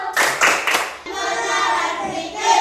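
A short round of brisk hand clapping from a group of children, a few sharp claps followed by a softer ripple, with a faint murmur of young voices.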